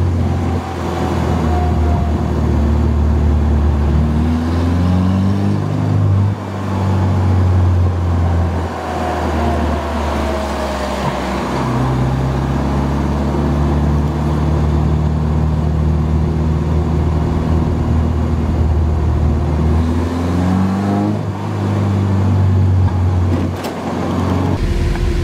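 A Boostedboiz 700hp Honda Civic heard from inside while driving, the engine drone and road rumble rising and falling through gear changes as it accelerates and cruises, steady and loud with no talking.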